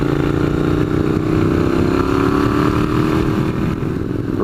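A 2015 Triumph Scrambler 900cc motorcycle engine drones loudly and steadily, its rumble echoing off a wall below while riding, with a slowly rising pitch as it pulls.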